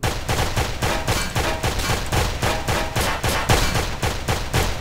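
Rapid gunfire in the video game Gross Laser Drill Robot: a steady string of about fifteen sharp, loud shots in even rhythm, close and alone with no talking.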